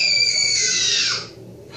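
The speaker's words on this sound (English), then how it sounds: "Please excuse the screaming." A young child screams in a high, drawn-out wail lasting about a second before trailing off, leaving only a faint background hum.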